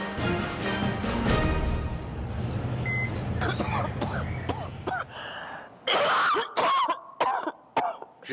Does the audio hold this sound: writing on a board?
no